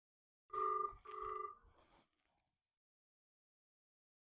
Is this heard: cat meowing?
no